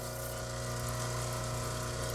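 Water runs and gurgles steadily on a lapidary grinding wheel while a moonstone is worked, a continuous close wash with a humming motor tone underneath.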